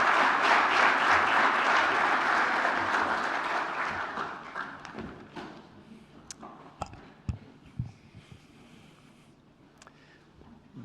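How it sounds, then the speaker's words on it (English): Applause from a conference audience fills the room with dense clapping, then fades over several seconds into a few scattered claps and faint clicks. "Please give him applause."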